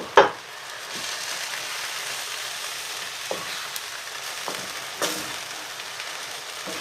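Beef with lemongrass and garden vegetables stir-frying over high heat, a steady loud sizzle broken by a few sharp clacks and scrapes of stirring, no voices.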